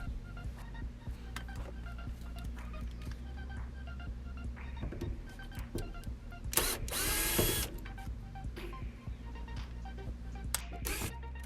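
A power tool removes small screws from the fuel pump cover of a 2007–2012 Mazda CX-7, heard as short, close whirring bursts over a low steady hum, with a louder burst midway and no voices.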